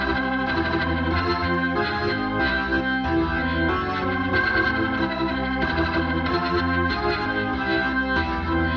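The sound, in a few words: Hammond organ through Leslie speaker, 180 setting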